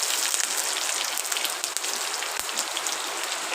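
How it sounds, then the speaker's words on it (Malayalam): Heavy rain pours down steadily, a dense, even roar of drops hitting surfaces nearby, loud and unbroken with no talking. "ഇവിടെ നല്ല മഴ പെയ്തുകൊണ്ടിരിക്കുകയാണ്."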